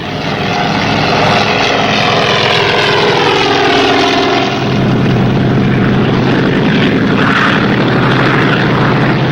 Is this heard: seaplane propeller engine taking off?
yes